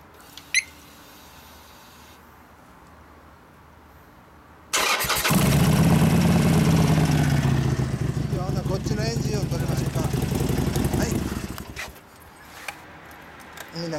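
A 2015 Harley-Davidson Sportster Forty-Eight fitted with a Screamin' Eagle exhaust fires up after a quiet pause, settling into a loud, rumbling idle for several seconds before cutting back down, with people talking nearby.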